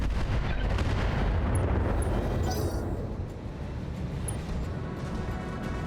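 Weapon fire and missile impacts rumble through a BattleTech RogueTech mech battle, a dense, continuous barrage of booming hits and crackling blasts that stays loud throughout and eases only slightly toward the end.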